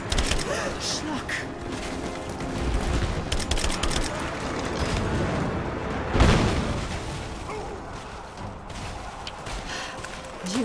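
Gunfire in Rise of the Tomb Raider, a dense spell of rapid shots and bursts with a heavier blast partway through, set against game ambience and a voice talking.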